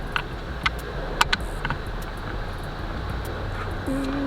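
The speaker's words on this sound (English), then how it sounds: "this wind is blowing hard" Strong wind blows hard outdoors on a day that isn't cold, making a steady, loud broadband rush with a few faint clicks and small clanks scattered through it.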